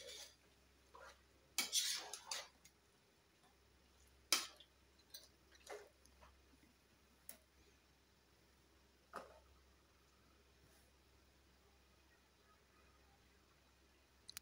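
A spoon stirs chicken curry in a pot, giving scattered metallic clinks and scrapes, sharp but sparse, against a quiet background.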